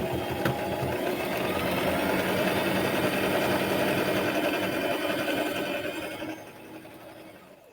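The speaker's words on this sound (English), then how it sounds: "We're going to sew those two together." Sewing machine stitching fabric triangles together for half-square triangles, a steady close whirring run that tapers off near the end.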